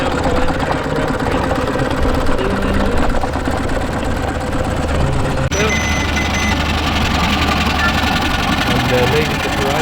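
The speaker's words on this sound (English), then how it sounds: "leading the parade coming up now on my right hand side is an agricultural engine" An agricultural steam engine runs in the arena at a steam rally, giving a steady, continuous mechanical drone with a constant low rumble throughout, loud and close, with no clear speech over it.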